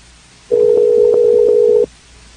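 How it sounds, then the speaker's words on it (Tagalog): A telephone signalling during a call in a radio drama: one steady, loud electronic tone holding for over a second, then cutting off cleanly into near silence. "Tawagan ko si Yaya Siba"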